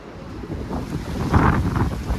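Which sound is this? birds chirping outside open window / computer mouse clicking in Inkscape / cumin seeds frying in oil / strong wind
strong wind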